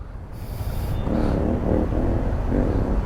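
A loud vehicle engine with a failing brake master cylinder runs steadily close by, a thick rumbling drone throughout, with a brief hissing burst near the start and low murmuring voices in the background.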